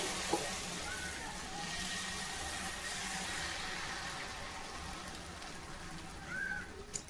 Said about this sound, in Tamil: தவா சூடாயிடுச்சு. இப்போ தோசை ஊற்றிக்கலாம்.